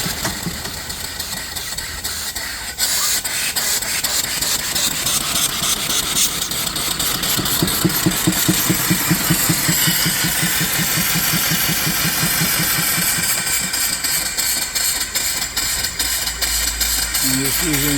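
Antique mill steam engine starting up on steam fed from a boiler, a steady rhythmic chuffing and mechanical clatter that builds and runs continuously at close range with no talk over it.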